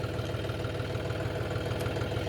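A John Deere tractor engine runs steadily in gear, a continuous low diesel drone with even rhythmic throb, close and constant throughout, with no talking.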